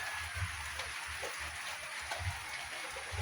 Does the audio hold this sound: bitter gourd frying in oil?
no